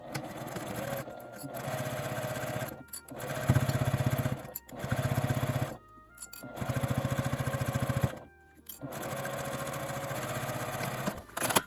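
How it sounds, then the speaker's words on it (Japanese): A sewing machine stitches a fabric seam with a 1 cm allowance, running in several rapid, rhythmic bursts separated by short pauses, close and clear with no speech. "1センチの縫い代で縫います。"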